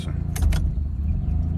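A car key turning in the ignition gives a short burst of crisp clicks and jangling keys near the start, over a low, steady hum of the car.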